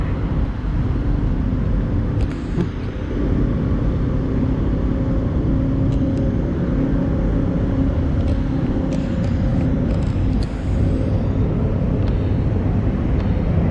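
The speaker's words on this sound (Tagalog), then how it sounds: "kita mo yung mga nagdadaang mga sasakyan sa Rose Boulevard" Traffic on Roxas Boulevard, Pasay City: a steady, loud rumble of cars and engines passing close by, with a few faint higher clicks and no talking.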